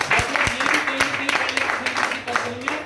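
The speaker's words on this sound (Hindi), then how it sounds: "सर के लिए जोरदार ताली हो जाए।" An audience claps for a speaker at a business leaders' gathering in Amravati, Maharashtra, a short burst of scattered, fairly close hand claps with voices talking over it.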